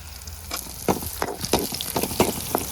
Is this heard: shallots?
yes